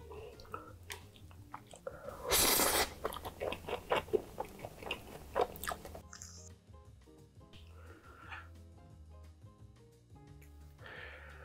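White jjapaghetti black bean noodles and pa-kimchi are chewed and slurped up close, wet bites and crunches in a steady run, louder for a burst early on and softer later.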